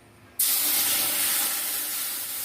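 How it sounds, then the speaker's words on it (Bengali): Milk hits a hot wok after vermicelli has been fried in it, a sudden loud hiss that starts abruptly and holds steady and close. "একই কড়াইতে দুধ দিয়ে দেব।"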